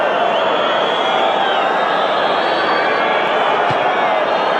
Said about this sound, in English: So at last, something for this crowd to cheer.